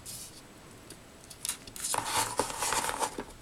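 Scissors trimming the edge of decorative craft paper for a framed sunflower gift: a quiet pause, then a close run of quick, crisp snips and paper rustles.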